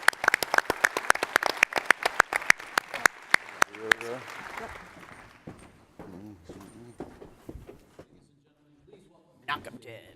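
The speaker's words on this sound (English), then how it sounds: "let's give one more round of applause for all the winners" A small group claps for the winners of the 2018 ACT-IAC Collaboration Awards, sharp distinct handclaps in a brisk uneven rhythm that thin out after a few seconds, followed by quieter scattered sounds and brief talk.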